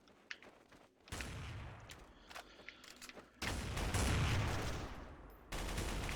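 Gunfire from a scout sniper rifle in Counter-Strike: Source, several sharp bursts and booming shots over a busy game backdrop, loud and close, with quieter clicks and ambient noise between.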